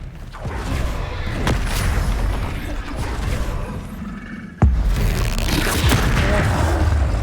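Confringo fire spells cast repeatedly in Hogwarts Legacy, with mechanical creaks and dull booms in a busy combat mix and one sharp loud blast near the end, sustained noisy clatter around it.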